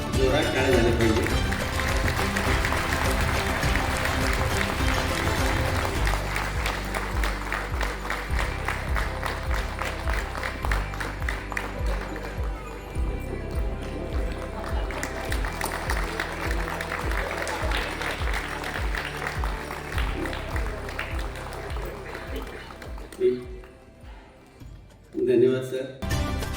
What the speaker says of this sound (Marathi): जोरात टाळ्या झाल्या पाहिजे.